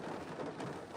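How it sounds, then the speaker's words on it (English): Hard rain falling as a dense, steady wash of noise that stays fairly quiet and even throughout, with no speech. "all of a sudden, it started raining. I mean, hard rain."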